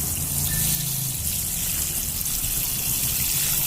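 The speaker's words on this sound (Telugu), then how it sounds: "నెక్స్ట్ కొంచెం వాటర్ చేసుకోవాలి." Steady gushing water poured continuously onto compost and red soil, a close, even splashing flow with no voices.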